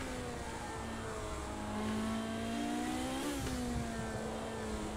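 Ferrari F40 race car engines in the racing game Project Cars 2 roar steadily, a sustained high-revving tone that climbs slightly, dips briefly at a gear change around the midpoint, then continues at full volume.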